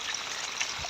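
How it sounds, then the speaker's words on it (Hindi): Floodwater from heavy rain rushes past like a breached canal, a steady close wash of churning water filling a brief moment with no voices. "पानी इस तरह से आ रहा है जिस तरह से कोई नहर टूटी हो हमारे"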